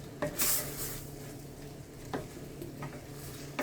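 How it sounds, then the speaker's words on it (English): Ackee is stirred in a frying pan for a Jamaican dish, with a few distinct scraping strokes over a soft, steady sizzle, close up and with no talking. "now I'm going to be adding the ackee. And just mix it around."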